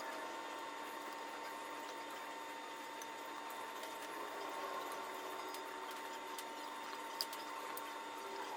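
A vacuum sealer machine drawing air out of mason jars filled with rice, a faint, steady mechanical hum with a light whirring texture and one small click near the end.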